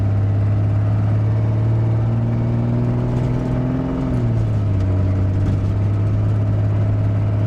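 A 1998 Jeep Grand Cherokee driven around the block, its steady mid-pitched engine hum close and loud throughout, with a rising then falling rev as it shifts partway through.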